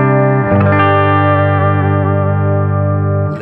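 Electric guitar with humbuckers, a Music Man guitar, through a Buffalo FX Rams Head NOS BC239c fuzz pedal, a loud, thick sustained chord with a thin ripple, struck once and held ringing, close with no talking.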